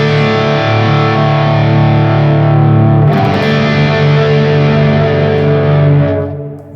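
Mahogany-bodied electric guitar played through distortion, sustained chords ringing loud and full, with a fresh strum midway and the tone fading out at the end.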